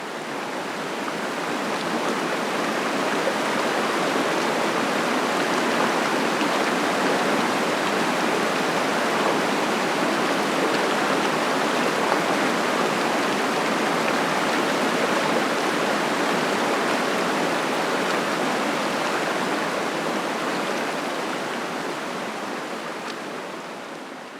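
River waterfall pouring steadily, a dense, unbroken roar of rushing water that stays loud and even throughout, with no voices.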